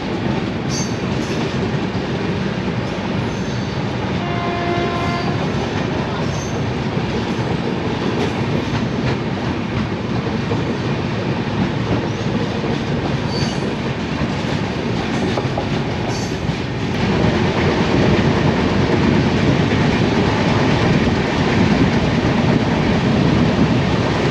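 The 19031 Yoga Express passenger train, running from Ahmedabad to Abu Road, rumbles past nearby, with a steady low roar, rhythmic clatter of wheels on track, and a brief squeal early on.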